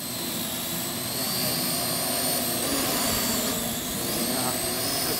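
A Parrot AR Drone 2.0 quadcopter in flight gives off a steady, loud, high-pitched rotor whine and buzz with slight wavering in pitch, continuous throughout.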